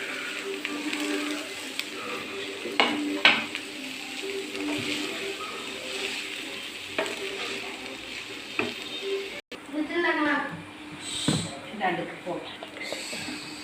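Crushed leftover chapati is stirred and fried in a pan, giving a steady soft sizzle with occasional scraping stirs, under a voice talking throughout.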